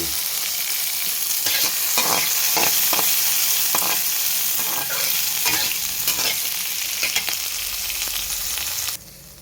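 Ridge gourd and tomato curry being stirred in a hot pan, a constant loud sizzle broken by repeated scraping strokes of a spoon, close and busy throughout, ending in a sudden quieter tail.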